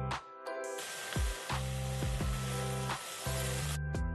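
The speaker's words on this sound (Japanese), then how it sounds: "また生地を鉄板いっぱいに流す" Okonomiyaki batter sizzles on a hot iron griddle, crackling in bursts that start and stop, laid over a backdrop of steady tones and pulsing low notes.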